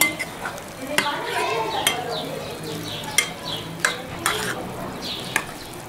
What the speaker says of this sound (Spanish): Una vez ya revuelto todo esto bien,